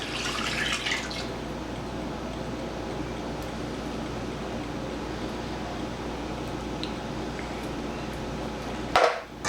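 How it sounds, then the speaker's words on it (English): Water splashes and trickles steadily as an evaporated milk can is rinsed out at a sink, with a brief louder slosh near the end. "I'm going to use that to rinse this can out"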